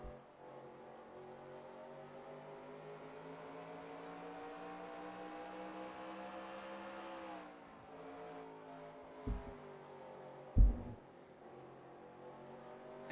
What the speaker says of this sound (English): Let's listen in as he works the throttle through the corners.